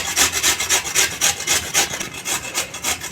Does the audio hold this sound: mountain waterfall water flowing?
no